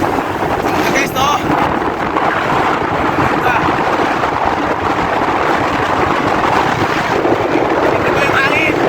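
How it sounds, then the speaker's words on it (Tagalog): Strong wind roars and buffets steadily on a boat, loud and unbroken throughout, with faint voices underneath. "Sobrang lakas na hangin dito."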